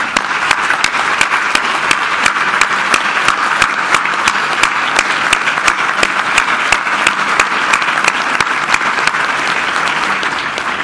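A dense, loud round of applause fills a business council's annual dinner as directors stand, with many hands clapping continuously at an even level throughout.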